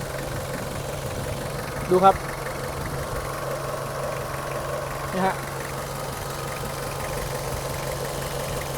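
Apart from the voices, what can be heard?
pickup truck engine idling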